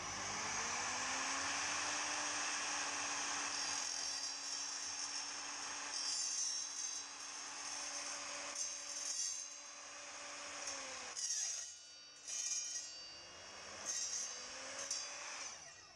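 Power saw slicing through 2 mm-wall aluminium, a steady high whining cut for about eleven seconds, then the motor winds down and restarts in shorter bursts, fairly faint.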